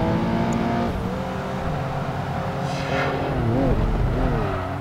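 Race car engine in the Project Gotham Racing 2 video game, a loud sustained engine drone that rises and falls in pitch as gears shift while overtaking, with no speech over it.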